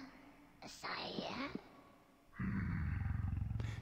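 A big cat roars in the video game Conker's Bad Fur Day, a rising growling cry followed by a lower rumbling, pulsing roar, fairly close, with game sounds around it.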